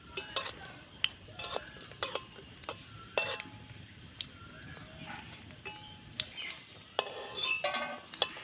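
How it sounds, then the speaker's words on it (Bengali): Fuchka (pani puri) shells fry in hot oil in a pan, a faint sizzle beneath scattered clicks and scrapes of a utensil stirring and tapping against the pan. "এগুলো তেলে দিলেই কিন্তু খুব সুন্দরভাবে ফোলে, একদম ঝামেলা ছাড়াই।"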